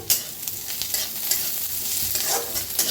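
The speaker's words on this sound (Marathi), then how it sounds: "कढीपत्ता त्याला बी भाजून घेऊया आपण" Onion, garlic, ginger and curry leaves fry in a pan with a dense crackling sizzle, punctuated by scraping stirs, heard up close with no voices.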